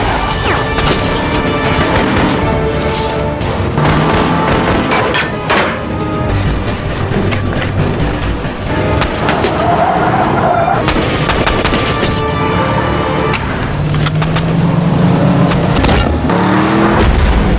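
Movie action soundtrack of a Navy SEAL war film chase and gunfight: dense, loud, continuous mix of crashes, impacts and gunfire bursts over engine roar and music, with no talk.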